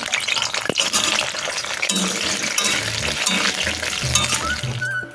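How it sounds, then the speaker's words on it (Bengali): Potatoes fry in hot oil in a home kitchen, with a loud, bright, continuous sizzle broken by clinks and scrapes of a utensil against the pan. "এবার তেল গরম হয়ে গেছে, এবার আলুগুলো দিয়ে আলুগুলো ভেজে নেবো।"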